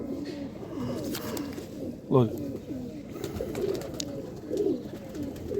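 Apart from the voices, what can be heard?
pigeon cooing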